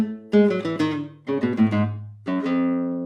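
Scale played on a piano-like instrument in a pattern of one slow note followed by four fast notes, clear close tones in repeating groups with no talk.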